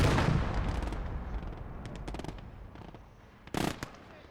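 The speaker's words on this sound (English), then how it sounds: "the MG is doing work up in the church tower" Machine gun fire from a church tower in the WWII game Gates of Hell during a PvP farm battle: a few short rapid bursts over a rumbling battlefield backdrop, moderately distant, the last burst sharper and closer.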